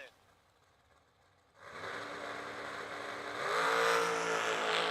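A dragster engine on a drag strip fires up after a quiet start and roars steadily, its note climbing as it revs harder toward the end, fairly distant, with an announcer talking over it.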